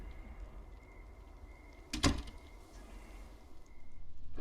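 A door opens in the Song of Horror video game at a mansion entrance: one brief sharp creak-and-thud in a quiet, faint ambience, followed by low rumbling.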